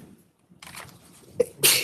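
A single sneeze in a large meeting room during a community board hearing: a sharp inhaled buildup and then a loud burst, fairly close, with faint background rustle and no talk over it.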